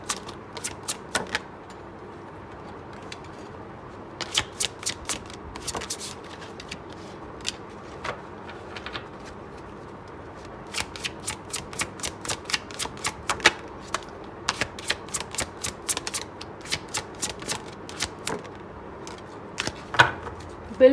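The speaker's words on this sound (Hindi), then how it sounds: "बिल्कुल ऑर्डर में गिर रहे हैं कार्ड्स" Tarot cards are shuffled by hand, making bursts of sharp riffling snaps and papery flicks that come close and crisp in uneven clusters, with quiet pauses between them.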